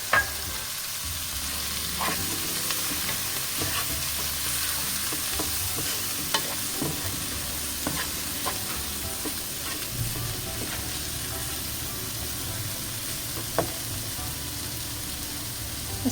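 Pepper and turmeric frying in a pan for an eggplant shakshuka while being stirred, a steady close sizzle with scattered scraping clicks of the spoon throughout, no voices.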